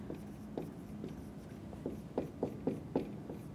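Chalk or marker strokes writing a chemistry formula for copper(II) sulfide, a series of short scratchy strokes that grow firmer toward the end, close and moderately quiet with no talking.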